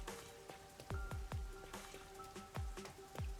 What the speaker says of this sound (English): I love that it's raining all the time.